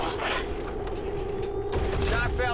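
Rapid gunfire and booms from the video game XCOM 2 crackle in a dense burst over game ambience, with a voice talking over the shots.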